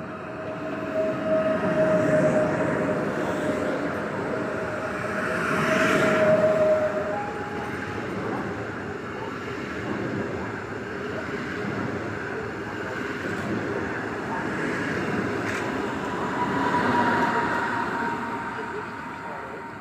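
An ED161 electric multiple-unit train passing through Warszawa Wschodnia station, a long, steady rumble of wheels and traction noise with swelling peaks as the cars roll by, loud and close.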